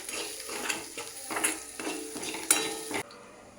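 Spice masala with a little turmeric is sautéed in oil for stuffed capsicum, with soft sizzling under a series of scraping spoon strokes against the pan at an uneven rhythm, close and fairly quiet, then a sudden stop.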